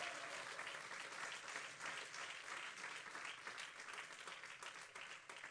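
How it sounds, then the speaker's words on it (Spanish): A church congregation claps for the Lord in steady, dense applause that holds at an even level throughout, with a faint murmur of voices beneath. "Dale un aplauso al Señor si usted es hijo de Dios."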